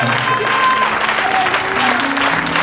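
A church congregation applauds in steady, dense clapping that fills the room, loud and continuous, with voices mixed underneath.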